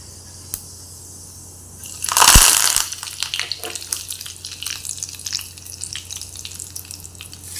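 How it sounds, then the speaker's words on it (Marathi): Mustard and cumin seeds go into hot oil for a chutney tempering. A sudden loud hiss erupts, then settles into quick, scattered popping and crackling under a low steady hum. "आता हिला राई जिऱ्याची फोडणी देऊया"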